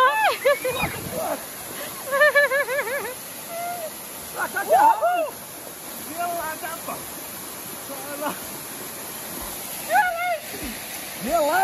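A waterfall at Penedo roars as a steady rushing wash throughout, with excited voices calling and chattering over the top.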